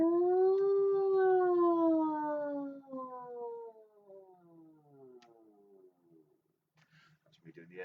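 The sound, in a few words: person imitating an air raid siren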